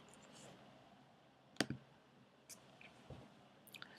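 A computer mouse clicks a few times, with sharp single taps spread out and one louder click near the middle, quiet and close, and nothing else in the background.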